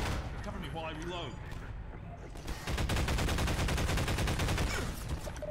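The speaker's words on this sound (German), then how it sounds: "Alex macht den Schuss gerade hoch." Rapid bursts of automatic gunfire from Half-Life 2 co-op rattle loudly after a short stretch of talking.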